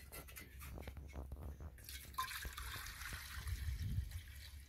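Water trickles and splashes steadily into a cooking pot, a soft continuous pour with a few brief knocks, fairly close.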